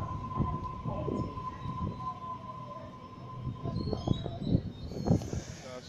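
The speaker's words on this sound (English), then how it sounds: "Set A23 now departing from platform number 2." A commuter train rumbles and clanks as it pulls away from a station platform at Turramurra, Sydney, a steady high whine running over the wheel noise for several seconds.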